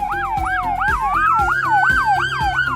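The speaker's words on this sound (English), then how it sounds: "create a powerful 200-watt dual-tone siren." A SoundOff Signal bluePRINT 200-watt dual-tone siren wails in a fast, steady rising-and-falling cycle, loud and close, with a second tone gliding upward beneath it.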